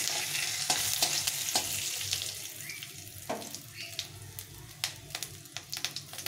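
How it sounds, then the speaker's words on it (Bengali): Dried red chillies, cumin seeds and bay leaf tempering in hot oil, with a steady broadband crackle, stirring scrapes and a few sharp clicks of a utensil against the pan, close and moderately loud, no voices. "এখানে শুকনো লঙ্কা জিরে আর তেজপাতা আছে, এটা ফোড়নে দিয়ে দেবো, দিয়ে নাড়াচাড়া করে দিতে হবে"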